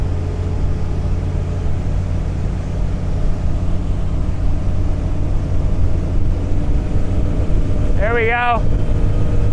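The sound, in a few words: 2013 Bayliner 195 boat, Mercruiser 4.3 engine accelerating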